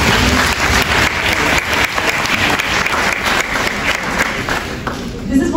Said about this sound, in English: Everybody give Jules a big round of applause.